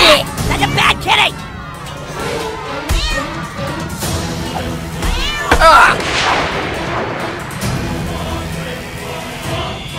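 A cartoon cat meows during a turn-based battle in the video game South Park: The Stick of Truth, a few short cries mixed in among game sound effects, impacts and overlapping character voices.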